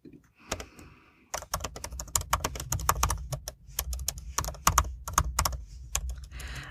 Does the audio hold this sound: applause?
no